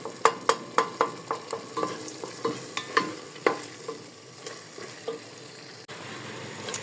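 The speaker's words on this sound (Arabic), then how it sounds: "عاد كنضغطوا عليه بحال هكا ونحركو باش تنسجم لينا العناصر كلها" Eggplant frying in a pan with a sizzling base, broken by a steady run of sharp, close utensil knocks and scrapes as it is pressed and stirred, the strokes thinning out toward the end.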